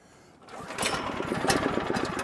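A sawmill's small gas engine starts after choking and settles into a steady, loud running chug, rising from quiet at the start and continuing alone.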